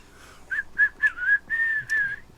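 Someone whistles a short tune, a handful of clear separate notes followed by a longer sliding phrase, close and alone in a quiet room.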